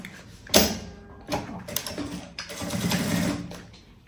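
Sewing machine stitching a quilted puffer tote bag strap near the zipper and lining, with bursts of rapid mechanical whirring broken by short pauses and handling clicks, close and alone.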